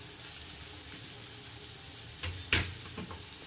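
Tomatoes frying in oil in a pan while making pasta, a steady close sizzle with a brief louder clatter of stirring midway, no voices.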